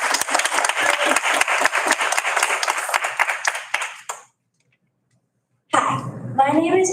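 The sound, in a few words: audience applause at board meeting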